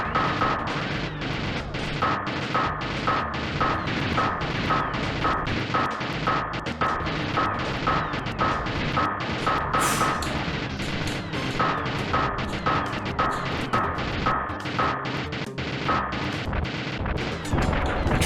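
Turrets on a big tank fire steadily in the VOTOMS Japanese mech action game, a rapid, loud, regular volley of sharp impacts and blasts that runs for the whole stretch with no talk over it.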